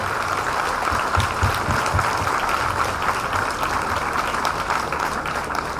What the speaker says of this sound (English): Requesting everybody to clap a little louder, please, just to have a little bit more.